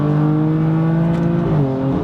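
A BMW M4 engine revs hard on a kick down, a loud, close, steady roar with a rising whine that holds for about two seconds and shifts pitch near the end, with no talk.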